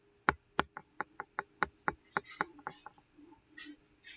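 Mouse clicks on a save button during a computer tutorial: about a dozen sharp, close clicks in a quick irregular run, followed by faint softer taps and a brief murmur.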